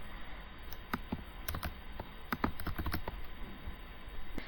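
Code is typed on a computer keyboard in irregular bursts of close, crisp key clicks, with short pauses between flurries and no talking.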